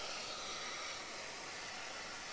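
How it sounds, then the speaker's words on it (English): A steamer hisses steadily and loudly against the top of a 1962 Harmony guitar in a guitar workshop, a dense unbroken rush of steam with no pauses. "I had no idea how much steam was coming out of this thing when I've had that needle on there."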